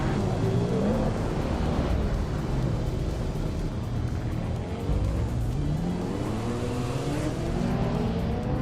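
Racing cars in a video game race roar continuously at close range, engines droning and shifting pitch with tire noise, no pause across the stretch.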